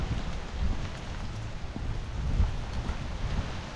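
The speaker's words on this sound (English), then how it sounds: "It's the slow and steady rain right now." Steady rain falling outdoors during a walk: a soft, continuous hiss of drops mixed with low, rumbling wind buffeting the microphone, with no talk.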